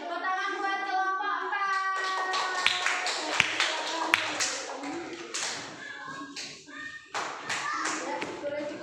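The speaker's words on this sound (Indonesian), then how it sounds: "Tepuk tangan buat kelompok" Applause for a group in a classroom: several people clap in uneven bursts at close range, with children's voices and talk running under and between the claps.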